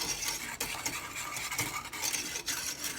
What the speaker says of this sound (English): So I'm going to stir that to combine it.